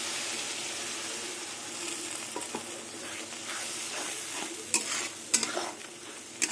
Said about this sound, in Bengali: আবার কিছুক্ষণ কষিয়ে নেব।